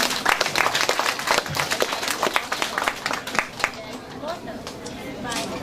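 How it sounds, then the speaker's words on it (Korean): A crowd claps in a burst of applause at a multicultural family festival that gradually thins out, with some chatter mixed in. "박수 한번 부탁드립니다."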